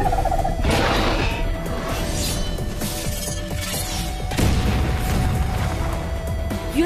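Ice-bombing skill explosions in the Block Warrior game: a series of loud booms, crashes and bursts with crackling debris, sharp impacts around one and four seconds amid continuous layered effects.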